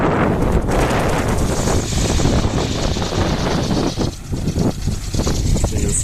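Strong summer wind of 25 to 35 km/h buffets the microphone in loud, continuous gusty roars with a brief lull near the end.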